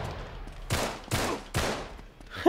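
Gunfire in the action video game Uncharted 3: three sharp, bursting volleys land about 0.4 seconds apart, close and loud, with no voices.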